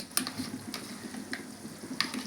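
Rice and mutton curry fry together in a pan, with a close, steady sizzle broken by small crackles and the light scrape of stirring.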